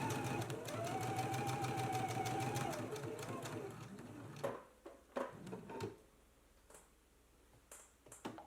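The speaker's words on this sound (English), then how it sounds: "Let's go ahead and stitch along the stitching line now." A sewing machine stitches a dress along its stitching line, running in a fast, steady mechanical chatter up close for several seconds before stopping, followed by scattered clicks and soft handling sounds with a voice talking.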